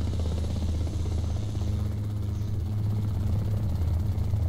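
Attack helicopter in a video game, its engine and rotor thrumming in a steady, loud low drone that carries through the whole stretch without pause.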